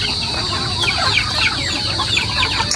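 Chickens cluck and chatter in a rapid, overlapping stream close by, with a constant high electrical whine running underneath.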